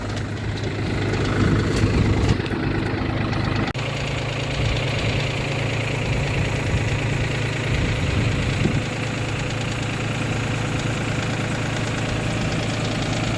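A small farm tractor idles steadily near a manure spreader, a continuous low diesel rumble with a slight knock, close and loud throughout with no talk.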